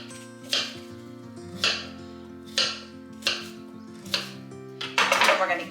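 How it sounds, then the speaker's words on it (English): A knife roughly chops apples for apple butter on a cutting board, landing about one firm thud per second. Five separate close knocks are followed by a quicker cluster of cuts, with no talking. "We're going to give them just a real rough chop."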